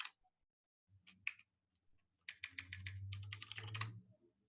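Rapid bursts of typing on a computer keyboard, a few isolated clicks first and then a dense run of keystrokes over a low hum, close and fairly quiet, with no voices.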